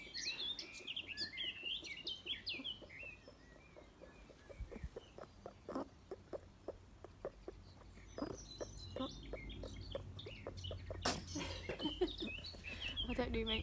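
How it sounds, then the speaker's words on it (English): Birds chirp and tweet outdoors in bursts, with squeaky calls and soft background noise between them. "I was trying to listen to the birds"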